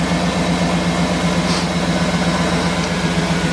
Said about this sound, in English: this has a really nice quiet exhaust